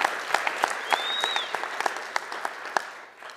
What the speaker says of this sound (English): So a big round of applause for Lynn.